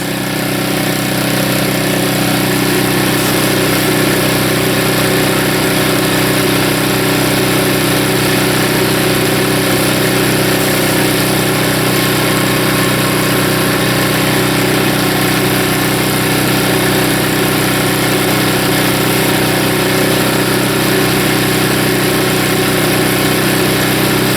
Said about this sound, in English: you're going to hear that engine bog down